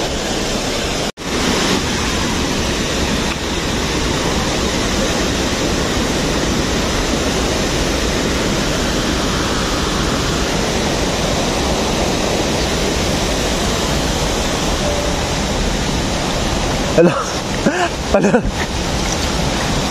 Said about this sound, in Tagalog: nindot kay nga falls na ginatawag na Sangawan Falls o Sanggawan Falls